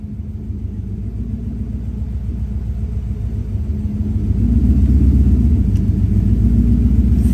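1965 car engine idling steadily after a misfire repair, a close, continuous low rumble that grows slightly louder and fuller partway through, with no talk over it.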